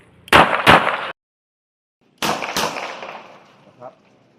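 A CZ 75 Compact 9mm pistol fires loud, close shots in two quick pairs separated by a short pause, the first shot of each pair double action and the next single action.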